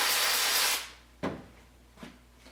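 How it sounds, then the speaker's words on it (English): An aerosol can of contact cleaner sprays onto a rag in a single steady hiss that lasts under a second. It is followed by two brief handling knocks and rustles in a quiet workshop. "spray it with a little contact cleaner"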